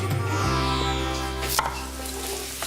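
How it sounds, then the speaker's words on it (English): A few dull knife strikes chopping ginger on a cutting board over a loud steady electrical hum, one chop standing out sharply in the middle. "finally chopping an inch square of ginger."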